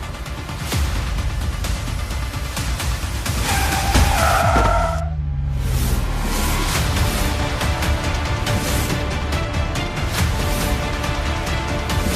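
A car driven fast skids with a sharp, squealing tire screech that rises and falls over steady loud road and engine roar.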